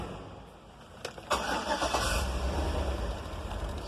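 A car with a 5.3 powertrain engine and a fuel pump control module fault cranks with a few clicks, then catches and runs roughly for a short moment, loud and close.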